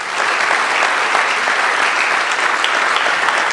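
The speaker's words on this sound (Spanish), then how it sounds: "dale una ofrenda de palmas" A church congregation claps steadily and loudly for a few seconds, a dense, even wash of applause with no pauses.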